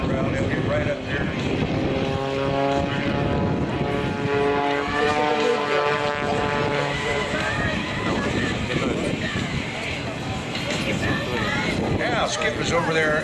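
An aerobatic propeller airplane drones continuously at an air show in Vero Beach, its engine pitch rising and falling as it twists and rolls, with someone talking over it throughout.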